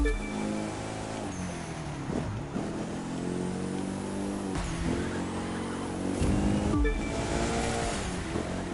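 A Mitsubishi Eclipse street racing in the video game The Crew 2 gives a steady, loud engine roar with rising and falling pitch as it shifts gears, a continuous whoosh of speed under it, and no speech.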